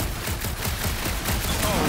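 Gunfire in the Guardians of the Galaxy video game, aimed at a gunked-up reactor, a rapid run of blasts that are dense, loud and close, with no talk over them.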